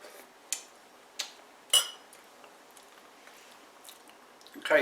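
Chewing a bite of cooked pinto beans from six and a half year old storage, a few faint soft crunchy bites and jaw clicks spaced out over quiet, close to the mouth.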